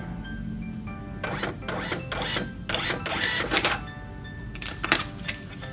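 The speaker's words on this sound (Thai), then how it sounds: "พิมพ์ใบเรียกเก็บเงิน" A Silom POS receipt printer prints a bill in a run of short, rapid mechanical bursts, with a few brief pauses between them, over a steady low background hum.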